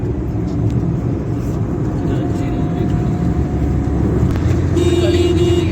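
A Toyota Corolla XLI drives along with steady road rumble and low engine drone filling the cabin, constant and fairly loud throughout.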